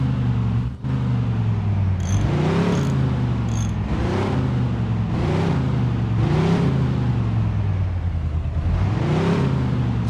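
A supercharged car engine in the Mafia II video game idles with a deep steady rumble and revs up several times in smooth repeated swells, loud and close.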